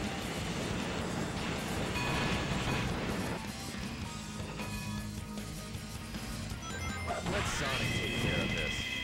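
A train rolls past in the Sonic Heroes video game with a dense, loud rumble and clatter, mixed with game music and effects, building again near the end with a sharp metallic crash.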